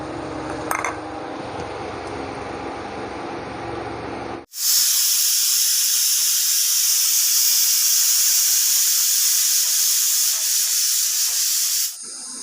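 Chana dal boiling: after a few seconds of quieter kitchen clatter, loud escaping steam bursts in abruptly and hisses strongly and evenly for about seven seconds before cutting off sharply.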